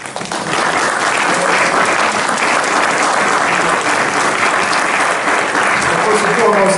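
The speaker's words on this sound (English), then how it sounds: "let's give a rousing round of applause to Congressman John Conyers." A large audience applauds continuously, a dense, steady wash of clapping that holds loud from start to finish.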